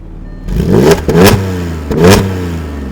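An Audi S4 engine revving hard in short bursts, three loud rising roars with brief drops between them, close to the listener.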